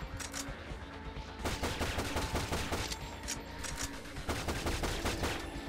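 Gunfire in the sci-fi shooter Shadowgrounds, with loud, rapid automatic bursts rattling nearly nonstop and brief gaps between volleys, and no voices over the shooting.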